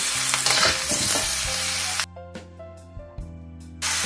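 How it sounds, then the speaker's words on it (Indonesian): Meat stir-fried in a pan for a Medan-style bakcang filling gives a loud, dense sizzle for about two seconds, then drops to a quieter crackle over a low hum before the sizzle surges back at the end. "Tumis dulu nih. Lalu nih kita masukkan lacinya ya. Nah, lalu kita lanjut masukkan aja dagingnya ya."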